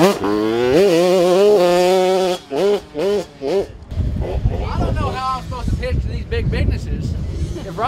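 A dirt bike engine revs hard on a motocross track, heard from inside a rider's helmet, with rising and falling throttle sweeps that break off into loud wind roar and rumbling.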